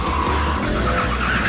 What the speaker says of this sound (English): This is the outgoing M5 in action